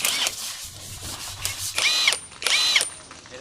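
An Osuka OSID520 cordless brushless impact wrench on a 128V lithium battery gives two short, sharp whirring bursts, each lasting under half a second, separated by quiet gaps.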